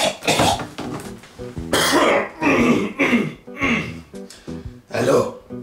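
A man on his 131st day after quitting smoking repeatedly clears his throat and coughs, a series of loud, close, rasping bursts separated by short pauses.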